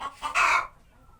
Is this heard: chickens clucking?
yes